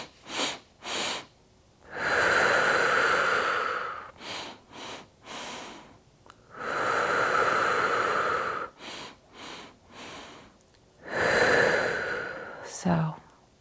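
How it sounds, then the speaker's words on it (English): A slow breathing exercise for yoga and emotional release: sharp sniffing inhales through the nose alternate with long, breathy sighing exhales through the mouth, repeated in close, quiet cycles with no talking. "We'll take 3 inhales through our nose and 1 long exhale through the mouth."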